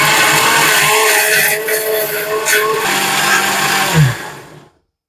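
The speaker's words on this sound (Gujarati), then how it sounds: "અહીંયા મિક્સર લઈ લીધું છે અને અડધો ગ્લાસ પાણી બી નાખી દીધો છે અંદર" A mixer grinder blends spice paste with half a glass of water, a loud steady whirring drone lasting about four seconds before it winds down and stops.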